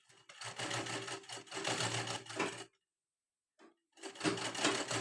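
Sewing machine stitching a princess cut blouse without lining, running in two long close bursts with a brief pause, then starting again, a steady loud mechanical whir with no talking.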